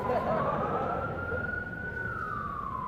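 A steady wailing ambulance siren passes by, loud and continuous, its pitch rising slightly and then falling as it moves away over a low rumble of road traffic.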